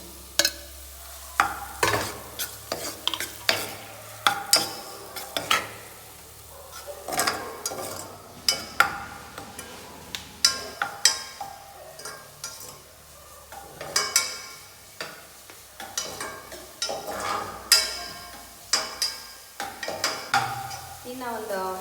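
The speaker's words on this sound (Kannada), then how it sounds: "ಈಗ ನಾನು ಫಸ್ಟ್ ಈಗ ಒಂದು ಈರುಳ್ಳಿ ಹಾಕ್ಕೊಳ್ತಾ ಇದ್ದೀನಿ" Chopped onion frying in oil in a pan while being stirred, for momos, with steady sizzling and frequent scraping and clinking of a spoon against the pan, close and continuous without talking.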